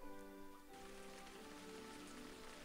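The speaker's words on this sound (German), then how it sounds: "Ich hab dir ein bisschen Regen geschenkt." Rain in the Lego Harry Potter video game bursts in suddenly after a soft musical lead-in, then pours as a steady, dense hiss of drops on surfaces, close and continuous.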